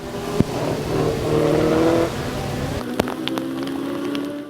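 Offshore powerboats racing on an artificial lake at Ülkü Park circuit in rain, engines droning steadily at mid distance over a hiss of rainfall, with one engine note rising and brief sharp knocks.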